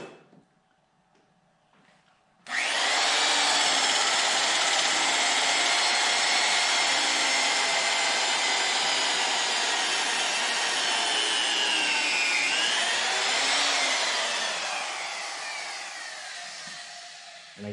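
A power drill with a sharp Diablo bit bores into a wooden rafter on a post and beam truss, starting abruptly after a quiet moment and running as a loud, steady whine for about fifteen seconds before easing off.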